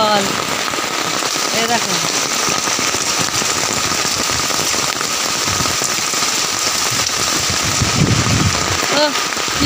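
Heavy rain pours steadily onto a waterlogged home courtyard, a dense continuous patter close by, while a person talks briefly over it.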